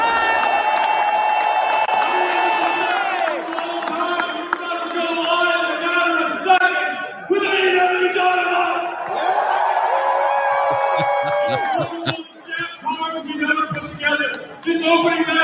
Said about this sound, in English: Tony Khan talking to the crowd before the show.